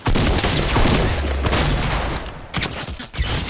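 Grenade launcher rounds and gunfire burst loudly in a shooter video game, a dense rapid volley of blasts that breaks up briefly before another hit near the end.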